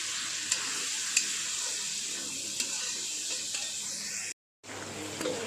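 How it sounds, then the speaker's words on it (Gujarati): Sugar and lemon juice are stirred into a sabudana khichdi mixture in a pan. A steady sizzle runs under soft stirring scrapes and a few light taps, then cuts out briefly before resuming. "આ રીતે મિક્સ કરી લેવાનું છે"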